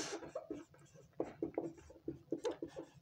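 Rapid chalk or marker strokes on a board during a biology lesson on blood composition, a series of short scratchy taps and squeaks in quick rhythm, close and clear with no talking.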